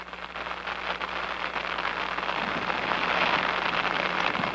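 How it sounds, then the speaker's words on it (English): Soft, steady patter of light rain outdoors, a continuous fine hiss with no voices. "I'm sitting out here in a drizzle now."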